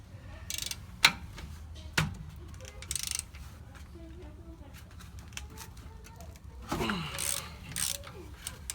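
A ratchet breaks loose the bracket bolts on a 1999 Ford F350 during parking brake repair, with sharp cracks and bursts of quick clicking spread out between quieter moments, alongside a low voice.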